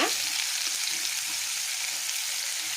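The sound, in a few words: onion and garlic frying in coconut oil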